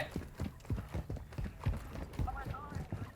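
Rapid, thudding footsteps of a player character in Call of Duty Warzone 2.0's DMZ mode, a quick irregular clatter heard up close, with someone talking over it.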